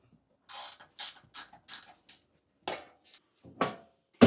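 A ratchet backs off bolts on a Suzuki Jimny XL JB74 rear floor platform, several separate bursts of quick metallic clicking with short pauses between, close and crisp.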